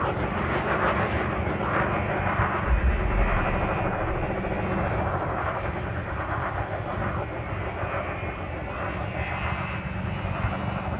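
Spaceship engine in Elite Dangerous throttling up to accelerate forward: a steady, loud, broad roaring rumble with a whining hum, sustained and unbroken throughout, without any talk.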